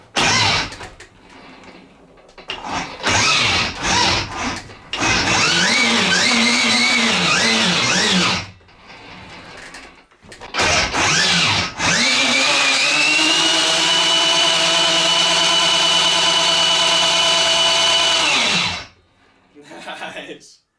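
Whining electric motor of a home-made six-speed electric dirt bike in sixth gear, revving in several bursts before settling into a long, steady high-pitched run that cuts off, with a voice speaking briefly at times.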